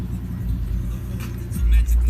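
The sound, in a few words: Chevrolet Trailblazer V6 car engine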